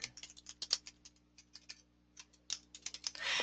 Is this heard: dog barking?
no